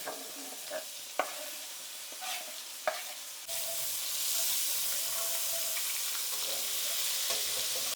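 Garlic, sun-dried tomatoes and mushrooms dropped into browning salted butter, a few utensil clicks and taps on the pan, then a sudden loud, steady sizzle that holds to the end.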